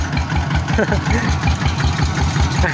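A walking tractor's engine chugs steadily in first gear, a loud rhythmic knocking idle-like beat close by, with someone talking over it.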